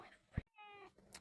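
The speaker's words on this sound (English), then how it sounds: "if you hear any meow noises, it's because" A pet cat gives a short meow, moderately close and alone, over a quiet room tone.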